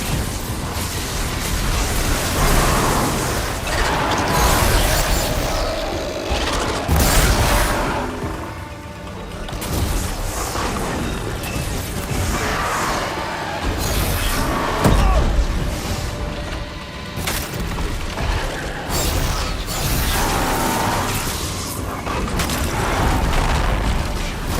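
Machine enemies attack in the game Horizon Zero Dawn, with heavy booms, crashes and mechanical clanks over a dense, continuous battle din that stays loud throughout.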